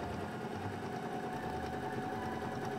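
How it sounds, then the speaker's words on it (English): A sewing machine stitches two pieces of wool fabric together for a red hooded cape, running as a steady continuous whir with a low motor hum throughout, close and fairly loud, with no talking. "The two pieces were sewn together, leaving a hole to turn it inside out."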